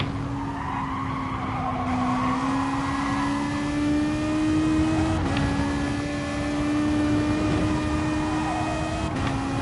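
A racing car in a racing video game drones loudly with a steadily rising engine pitch, broken by two quick gear-shift dips, and tire skidding runs through it. No one talks.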